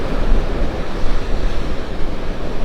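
Strong wind roars across the microphone on Vanderbilt Beach in North Naples, with surf rumbling steadily underneath. The sound is loud and continuous, and no voices are heard.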